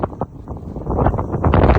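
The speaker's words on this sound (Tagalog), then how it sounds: "Hindi naman malamig, sobrang hangin lang, dapat wala tong hangin." Strong gusts buffet the microphone on a beach at low tide at Enniscrone, rising in loud rough bursts that grow stronger toward the end.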